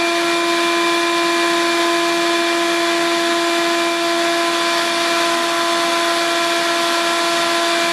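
Shop vac running steadily during chrome powder coating of small parts, a loud continuous whine with a broad hissing airflow and fixed tones, unchanging and close for the whole stretch with no talk.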